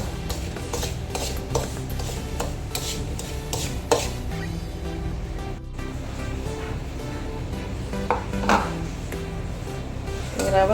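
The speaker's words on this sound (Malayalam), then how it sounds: "ഇതൊന്ന് നെയ്യായിട്ടൊന്ന് മിക്സ് ചെയ്തിട്ട് ഒന്ന് വറുത്ത് മാറ്റിയിട്ട്" Rava (semolina) stirred and roasted in ghee in a pan for rava uppumavu: a steady scraping stir with occasional clinks of the spoon against the pan, continuous and fairly close, with no talking.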